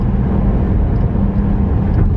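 A car cruises across a bridge at night with no other traffic, a steady close road rumble and engine hum continuing without pause.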